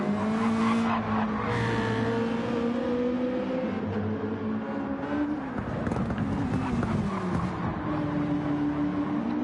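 Race cars battle wheel to wheel in an STCC touring car race in a racing video game, engines droning and shifting pitch with tire squeal, loud and continuous beneath a commentator's voice.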